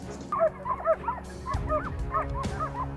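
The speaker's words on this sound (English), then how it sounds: "Dogs barked, voices echoed through the woods." Hunting dogs bark and yelp repeatedly in a woodland swamp during a wild boar chase, a steady run of sharp, fairly close calls with rustling and thuds in the background.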